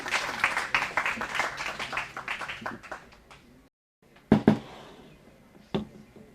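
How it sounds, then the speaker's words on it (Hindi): An audience at a university gathering applauds to welcome the chief guest, with dense clapping that thins into scattered claps, a brief silence, then a few isolated sharp claps. "तो तालियों के साथ स्वागत करें हमारे आज के मुख्य अतिथि का।"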